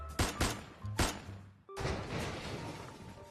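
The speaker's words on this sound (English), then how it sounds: "Suddenly, several gunshots ring out, piercing my eardrums." Gunshots ring out at a party scene in an audiobook drama: two sharp close cracks in quick succession, then another pair, a brief silence, and a sustained rattling burst of gunfire.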